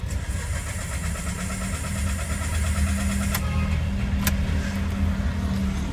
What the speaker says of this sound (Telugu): బండి అయితే ఇప్పుడు స్టార్ట్ అవ్వట్లేదు.